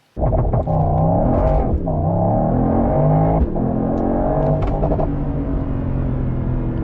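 A 2025 Mercedes-AMG GT 63 Coupe revving hard from a standstill, a loud, close engine roar rising and falling through several throttle blips over a deep rumble, sustained for several seconds with no talking.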